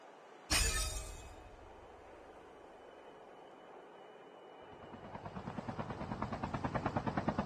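An airdrop plane flies over in a battle royale video game, a sudden loud hit followed by a steady engine drone that grows into a rhythmic pulsing thrum toward the end, no speech.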